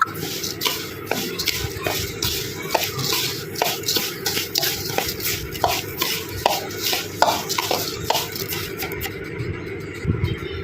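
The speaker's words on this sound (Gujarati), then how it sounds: "હવે આપણે સારી રીતે બધું મિક્સ કરી લઈશું આને" A thick mango and jaggery pickle mixture being stirred in a pot, with repeated scraping and clinking strokes in an uneven rhythm, close and moderately loud, with no talking.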